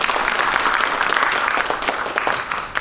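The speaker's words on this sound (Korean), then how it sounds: "교수님께 공로 치하의 박수 부탁드립니다" At an academic symposium in Korea, an audience applauds a professor after a presentation, a full, even wash of clapping that stays loud from start to finish.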